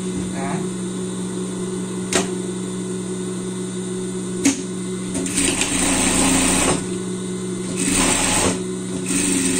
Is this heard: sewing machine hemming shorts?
yes